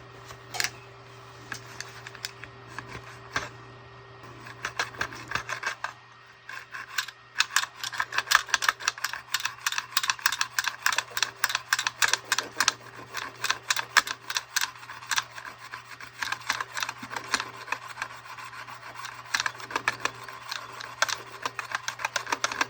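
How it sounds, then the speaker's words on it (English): A fine-toothed jeweler's saw cuts through a leather latigo loop up close, faint scraping at first, then a fast, steady run of short rasping strokes that continues to the end, with a low hum underneath. "taking my jeweler's saw and putting that here and cutting that"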